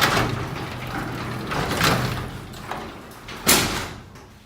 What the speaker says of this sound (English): all you have to do is just pull this lever and the door is going to start falling down, and you can close it by hand.